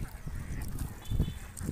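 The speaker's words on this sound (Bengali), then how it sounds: "এই যে দেখতে পাচ্ছেন হাঁসগুলো কত সুন্দর করে বসে আছে, আমাকে দেখে তারা নেমে যাচ্ছে।" Ducks settled by a hatchery pond give off low, throaty honking calls, a louder cluster bunched near the middle over steady outdoor background noise.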